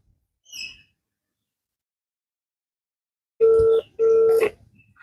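Two steady electronic telephone tones ring out back to back, loud and close, on an outgoing phone call, preceded by a brief faint chirp, with no talk.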